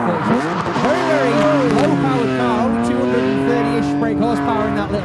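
A low-powered BMW E46 drift car of about 230 horsepower makes a qualifying run on a circuit at a drift event, its engine revving hard with rising and falling pitch over screeching tyres, while a commentator talks over it throughout.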